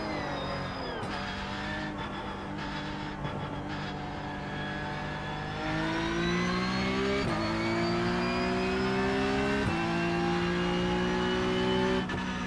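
A video game car engine revs hard and steadily, its pitch climbing in stages with quick drops between gear shifts, loud and continuous with no talking.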